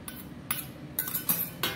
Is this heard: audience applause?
no